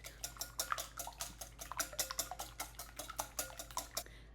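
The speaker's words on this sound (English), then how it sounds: "you're just going to fluff up your eggs a little bit using the whisk" Eggs whisked in a bowl for a pecorino Romano sauce, a quick steady run of light clicking wire-on-bowl strokes, close and fairly quiet, with no voices.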